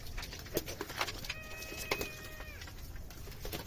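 Pigeons in a backyard loft coo softly, a few low throaty calls over faint flapping and rustling, with a thin tonal whistle in the middle.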